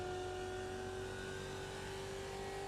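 Indy race car engine in the Automobilista racing game, a sustained loud droning engine tone with steady pitch held throughout, no talk.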